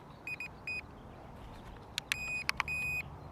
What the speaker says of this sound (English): all these beeps